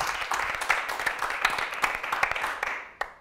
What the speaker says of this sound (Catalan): Un aplaudiment per en Marc.